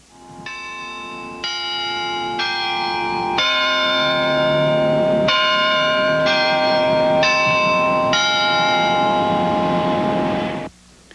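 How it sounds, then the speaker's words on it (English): Church bells ring out at St. Paul Methodist Church in the Highlands, Louisville, Kentucky, with a series of loud, clear, overlapping strikes sounding one after another and ringing on until a sudden stop near the end. "At the St. Paul Methodist Church in the Highlands, bells rang out this afternoon."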